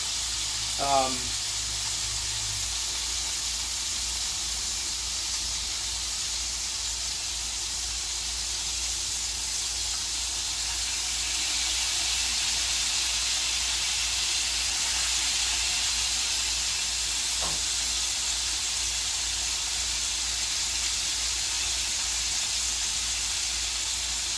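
Leche frita pieces frying in hot oil, a steady broad hiss and sizzle held at even loudness throughout, with a brief clink early on and a voice briefly present.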